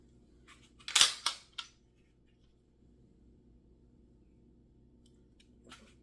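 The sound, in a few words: clearing a Glock 45 Gen 5 MOS pistol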